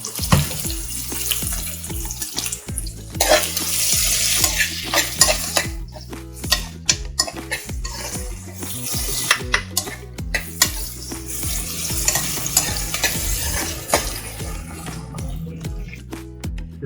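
Onions frying in hot oil in a pan for mutton paya curry, stirred with steady scraping and clatter over a continuous sizzle, with rhythmic low thumps of a spoon throughout.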